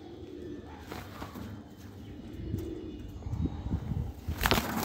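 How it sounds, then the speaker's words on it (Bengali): Pigeons for sale, including a white-headed variety, coo softly in a low rolling murmur against steady background noise, with a few louder bursts toward the end. "এই চারটে পায়রা আছে।"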